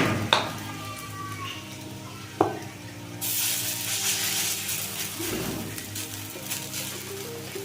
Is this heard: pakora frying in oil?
yes